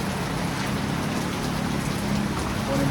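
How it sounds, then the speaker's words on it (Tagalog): Steady rain falls outdoors in a broad, even hiss of drops on surfaces, loud and continuous for the whole stretch, with no voices over it. "Umuulan."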